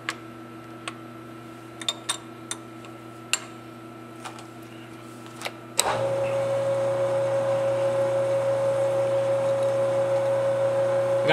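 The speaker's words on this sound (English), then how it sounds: "Got the machine running in back gear." Lathe power tapping in back gear at about 60 RPM: scattered light ticks and clicks, then the machine starts with a steady, continuous whirring drone and a thin high tone that holds to the end.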